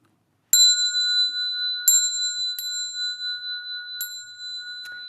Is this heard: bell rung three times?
yes